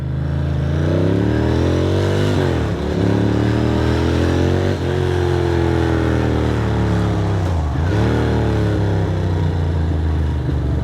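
A motorcycle on a group ride roars loud and close, its engine drone steady and strong, with two clear dips and rises in pitch as it shifts or another bike goes by; no talking is heard.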